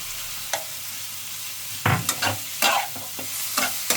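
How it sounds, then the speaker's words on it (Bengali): Minced meat stirred into spiced frying oil in a pan, with close, sharp scraping strokes at a steady rhythm over a low background, no talking. "মাংস কিমা করে আগে থেকে রেখে রেখেছিলাম দিয়ে দেবো দেখো আমার ভাজা প্রায় হয়ে গেছে মশলাটা কিমাগুলো আমি দিয়ে দিলাম"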